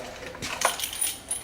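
A set of BMW E28 M535i car keys is snatched up, giving a brief, faint metallic jingle and clink with a few light taps.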